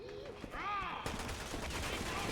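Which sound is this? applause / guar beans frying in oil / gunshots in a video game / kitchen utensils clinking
gunshots in a video game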